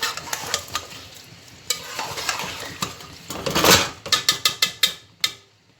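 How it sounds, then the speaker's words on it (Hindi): A spoon stirring chicken pulao rice in a metal pot gives a series of clinks and scrapes over a soft sizzle, ending in a quick run of sharp, evenly spaced taps against the rim. "अब इसमें हम जो है एक बार चम्मच हिलाएंगे"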